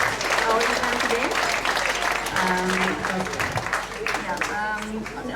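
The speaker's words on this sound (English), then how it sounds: "give also applause to all the committee and volunteer who helped organize our event today" Audience applause at a poetry slam at a Bali venue, steady clapping under scattered voices and chatter as the crowd claps for the organizers and volunteers.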